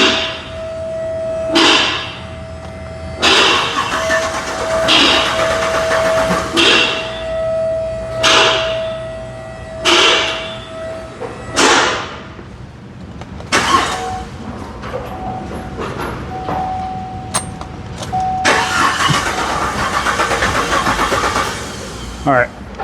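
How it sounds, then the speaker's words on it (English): A car engine with a misfire cranks over repeatedly in rhythmic bursts, the starter churning loudly and close, several separate attempts with a steady tone running underneath, ending in a longer stretch of busy mechanical noise. "let me try cranking it and see what happens"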